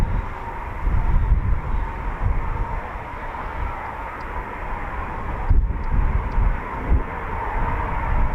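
Typhoon FGR4 fighter jets take off at RAF Coningsby, a broad distant roar that holds steady and rumbles throughout, with gusty low-end buffeting like wind on the microphone.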